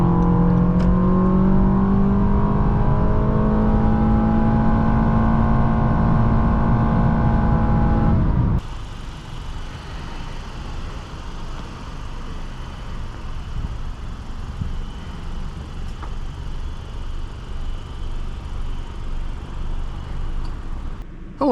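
A 2016 Honda Accord Sport's 2.4-liter four-cylinder engine revs up steadily in a rising drone, then shifts into a steady road hum with wind noise, loud and close from inside the car.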